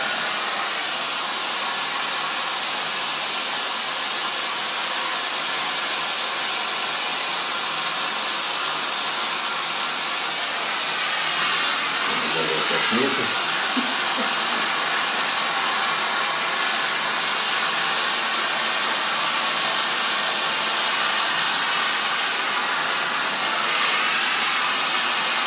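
A hair dryer blows steadily on a woman's hair during a fringe styling session, giving a loud, close, continuous whoosh for the whole stretch with a few brief shifts in tone partway through.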